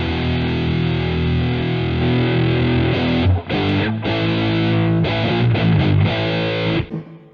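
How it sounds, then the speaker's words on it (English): Heavily distorted electric guitar chords through a Miesnieks distortion pedal with its boost engaged ring out continuously, loud and saturated, with a few brief breaks and rechokes near the end. "So it boosts the distortion."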